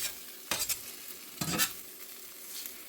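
Eggs fry in oil in a Smithey Farmhouse cast iron skillet, with a soft sizzle broken by two sharp bursts of scraping and stirring, close and without speech.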